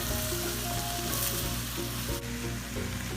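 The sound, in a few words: vegetables sautéing in a pan, being stirred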